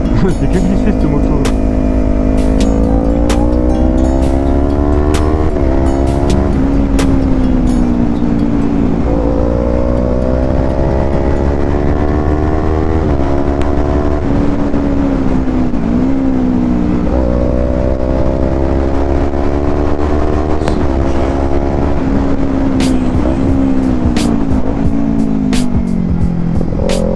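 A motorcycle engine roars close and loud throughout on a motorcycle licence training ride, its pitch climbing and dropping as it revs and shifts gears, with a voice now and then.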